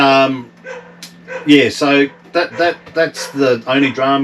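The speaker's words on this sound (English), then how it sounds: "sorry about the dog noise" A dog that is not the owners' barks in short bursts nearby during a talk about a Ram 3500 tow rig, its yaps mixed under and between steady conversational speech.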